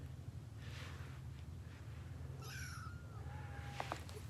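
Young kittens meowing indoors while being let out to walk around, a few short high calls near the middle and end over a steady low background hum.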